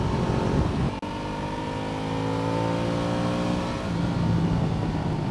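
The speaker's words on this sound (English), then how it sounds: "The engine is so lively." A 2015 Ducati Multistrada 1200S, a 240 kg adventure motorcycle, accelerates hard, its engine note climbing steadily through the gears as a loud, continuous rising drone with a brief dip partway through.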